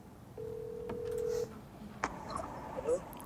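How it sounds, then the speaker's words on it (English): A telephone call dialed on speakerphone: a steady dial tone holds for about a second, then a short tone and faint beeps follow, with light room noise and no clear talking. "Oscar Anderson, who we're actually gonna make a phone call."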